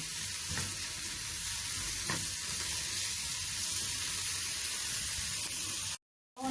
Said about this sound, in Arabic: بديهم تشويحه بالشكل ده، بس بنزل بالقوانص الاول